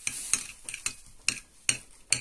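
A spoon stirs a mayonnaise and garlic mixture in a dish, making a series of quick, irregular clicking scrapes, close and moderately quiet, with no voices.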